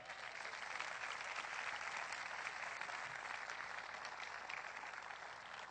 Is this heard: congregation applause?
yes